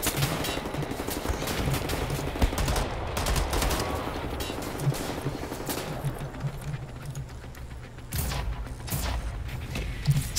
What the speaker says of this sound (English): Handgun. Boom.